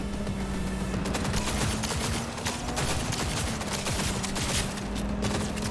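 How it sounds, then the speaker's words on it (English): Gunfire in the video game Cyberpunk: a sustained, dense barrage of rapid automatic shots and overlapping blasts, loud and continuous throughout without pause. "Now, let me shoot someone."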